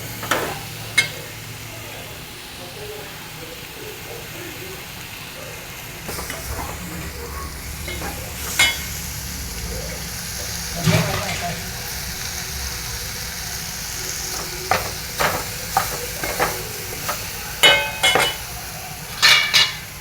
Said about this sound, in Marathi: छान अशी परतून घ्यायची आहे.